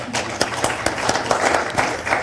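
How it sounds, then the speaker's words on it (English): Conference attendees give a short burst of applause, a brief patter of scattered claps from a modest crowd that stays fairly even in loudness. "Round of applause for you."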